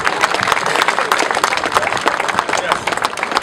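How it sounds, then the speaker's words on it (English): An audience at the opening of the Bahamian Brewery and Beverage Company applauds to welcome a government minister. Loud, dense, close clapping fills the whole stretch, with some crowd murmur mixed in. "Please give him a wonderful round of applause."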